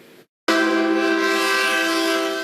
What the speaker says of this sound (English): Like the train that cuts through the middle of town